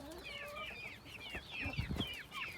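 Chickens, chicks and roosters cluck and chirp on a farm, with a rooster and fowl calls layered over one another, fairly close and steady.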